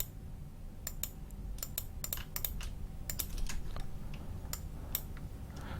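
Rapid, irregular clicks of typing on a computer keyboard, close and fairly loud, run steadily for several seconds over a low background rumble, with no one talking.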